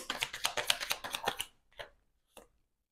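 Tarot cards riffled and shuffled close up, a quick run of crisp flicks for about a second and a half, then a couple of isolated soft card taps amid silence.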